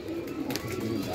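A pigeon cooing close by, a low soft throaty coo running through the short moment at moderate level with faint background noise.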